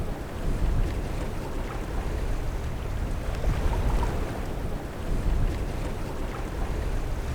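A sailboat runs before the trade winds, with steady wind rush and water sloshing along the hull in a continuous moderate roar, broken by small surges of spray.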